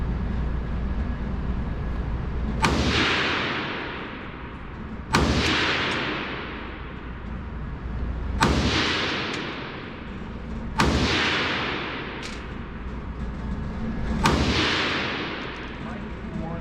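FN PS90 rifle fired at a shooting range: five loud, sharp shots spaced a few seconds apart, each with a long booming echo tail, over steady outdoor background.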